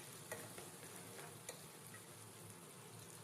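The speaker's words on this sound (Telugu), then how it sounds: "ఒక ఎండుమిరపకాయ, కొద్దిగా కరివేపాకు, 1 కప్పు ఆనియన్ వేసుకొని ఫ్రై చేసుకోవాలి" Onion, a dried red chili and curry leaves frying in a pan for a bitter gourd curry, giving a soft, steady sizzle and crackle with a few faint stirring clicks, heard alone at low level.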